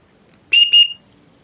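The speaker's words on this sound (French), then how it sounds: "Tiens, il y a un sifflet." Two short, shrill whistle blasts in quick succession, close and clear, against near silence.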